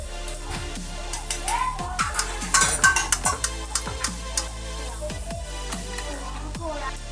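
Golden-brown potato pakoras lifted out of a frying pan into a dish, with a string of light clinks and scrapes of a utensil against pan and dish over a faint background sizzle.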